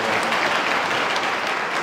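Audience applause at a blood donation camp, a dense, steady wash of clapping that fills the whole short stretch at an even loudness.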